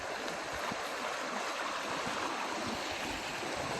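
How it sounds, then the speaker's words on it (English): North River rapids rushing below a trail, a steady hissing flow of water with soft low splashes, heard from a short distance at an even, moderate level, no voices. "there are some rapids down here"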